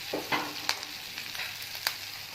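Mutton shami kababs fry in oil in a pan, a constant bright sizzle punctuated by a few sharp crackles and spatters, close and clear with no talking.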